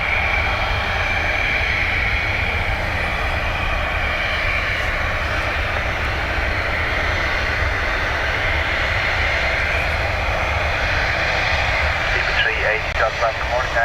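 A plane's engines hum and whine steadily at Dublin Airport as it taxis, a continuous, fairly loud drone that stays even throughout with a faint higher whine on top.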